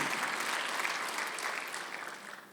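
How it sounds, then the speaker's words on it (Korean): A church congregation applauding during a Sunday worship service, a brief burst of dense clapping that slowly fades toward the end. "박수."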